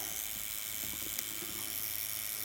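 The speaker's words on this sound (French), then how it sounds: "on va essayer de tatouer" A tattoo machine running at about 9 to 10 volts gives a steady, even electric buzz that holds unchanged from start to finish, with no talking over it.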